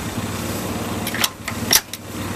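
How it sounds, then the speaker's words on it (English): A small tow truck engine, a Volkswagen, running with a light, fast buzzing drone, close and fairly loud, with a few sharp bursts and revs near the end. "Now to fire up the tow truck, or the Das Auto"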